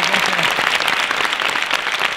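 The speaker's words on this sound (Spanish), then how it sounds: "quiero que le den un fortísimo aplauso" Steady, loud applause from an audience at the PortAventura World season finale, dense clapping that continues throughout without pause.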